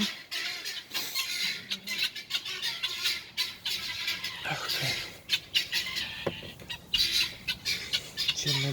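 Chickens squawking and clucking close by in a backyard plot, busy overlapping calls with rustling and handling noises throughout.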